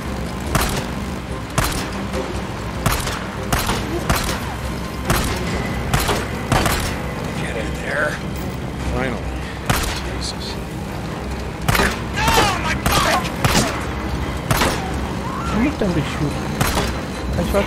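Gunfire from a motorbike in Days Gone, with repeated sharp shots and booms breaking over a steady engine rumble throughout, while voices talk alongside.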